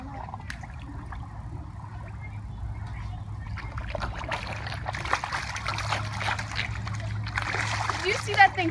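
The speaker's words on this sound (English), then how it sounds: "Look at him flopping out of the water." A sardine-fed fish flops and splashes at the water surface in an aquarium, irregular sloshing bursts growing louder toward the end over a low hum, with people talking throughout.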